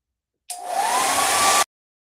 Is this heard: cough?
no